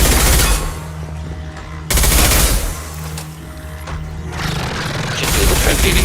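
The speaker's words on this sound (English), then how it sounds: "Receiving fire from Allied forces." Automated weapon fire in Mass Effect 2, loud close bursts of rapid machine-gun rattle with mechanical clatter, pausing briefly between volleys.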